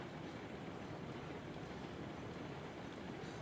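A train rolls past in the railway simulation game Railroads Online, a steady, faint broadband rumble with a soft hiss that holds at an even level throughout, with no talk over it.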